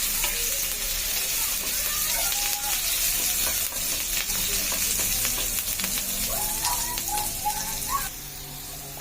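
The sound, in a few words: green chillies and whole cumin frying in oil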